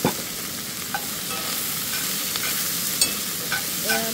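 Onions, tomatoes and mushrooms fry on a high flame outdoors, a constant close sizzle broken by a few sharp clicks and spatula scrapes.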